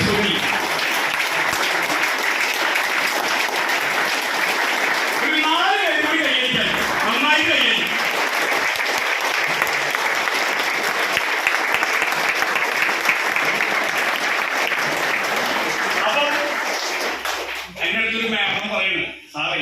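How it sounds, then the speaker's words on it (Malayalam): A crowd at a Mi Lifestyle Marketing business gathering in Tirur claps loudly and continuously for about seventeen seconds, with voices rising over the applause in the middle and as it tapers off at the end. "കൈയടിച്ചാൽ അവസാനിപ്പിക്കുള്ളൂ. ഈ കൈയടി പോലെ"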